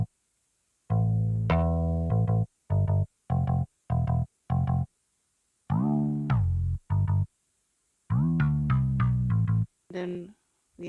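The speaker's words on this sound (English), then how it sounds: "the bass, which sounds like this, the bass guitar." Bass guitar playing a choppy Afro swing bass line, with short repeated notes and gliding slides broken by gaps, clear and close with no voices.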